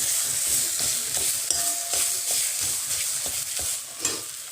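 A spatula stirs brinjal with fried cumin in a pan, producing repeated scraping strokes over a steady sizzle, close and fairly loud with no talking.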